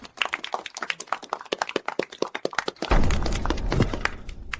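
A few people clap in separate, sharp, evenly spaced claps, then the sound swells into fuller, continuous applause from a larger group, close and fairly loud.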